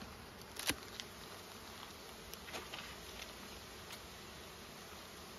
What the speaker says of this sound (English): Lots of bees up here.